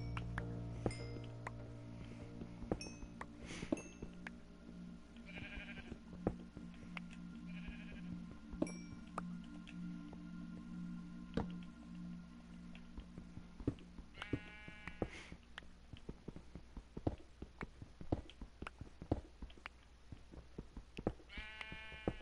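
Sheep bleating in a video game, faint repeated bleats over a low droning background with scattered clicks and thumps.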